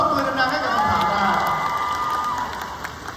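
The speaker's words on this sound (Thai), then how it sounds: "ปรบมือดังๆให้กับคำถามค่ะ" An audience at a Miss Universe 2023 pageant event claps and cheers with whoops and excited shouts, a lively crowd noise that gradually fades toward the end.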